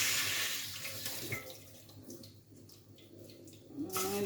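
Water runs steadily from a kitchen tap into a sink, a continuous rushing flow that holds on throughout with small shifts in splash, no voices over it.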